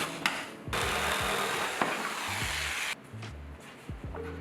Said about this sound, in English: I also sanded it.